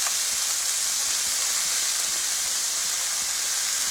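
Venison backstraps sizzle in a hot pan, a loud, even, continuous hiss close by that holds steady throughout, with no talking.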